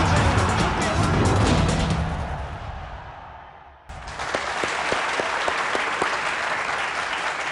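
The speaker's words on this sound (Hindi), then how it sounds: "बजाओ तालियां" A studio audience on a cricket talk show applauds heading into a break, dense clapping that fades away, then a sharp cut into a new passage of sound with brief tonal taps.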